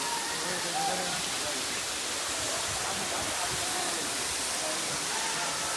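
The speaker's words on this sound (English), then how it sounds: "Our first destination was Baba Waterfalls, and honestly, what a beauty!" Baba Waterfalls in Amboli roaring steadily, a broad continuous rush of falling water filling the scene at close range without pause.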